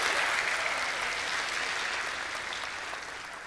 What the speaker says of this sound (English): Round of applause for the man with the good intentions